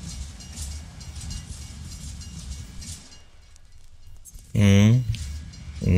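A long train in Hitman: Absolution rumbles by with continuous rolling noise and faint clicking, fading briefly before a voice speaks over it.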